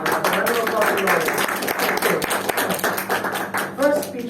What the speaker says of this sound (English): Round of applause to Lawrence.